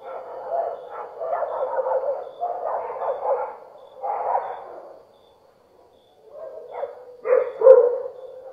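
Dogs bark in a run of loud, rough bursts, pausing briefly before a few sharper, louder barks close by, with no voices over them.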